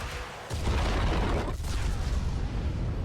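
An explosive weapon fires in a video game: after a quieter lead-in, a heavy deep boom hits and rolls into a sustained loud rumble, with a second blast partway through.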